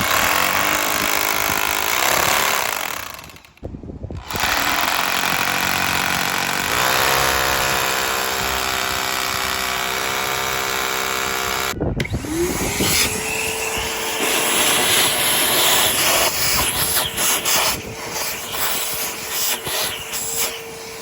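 A loud, steady hammer drill whine grinds on continuously, briefly stopping twice before resuming, with a rising pitch toward the end as a 3/16 bit works through concrete.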